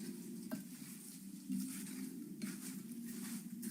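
Brown and white sugar mixture being stirred in a pan beside melted butter, a soft continuous scraping with faint sizzle and a few clinks of utensil against cookware, quiet and close.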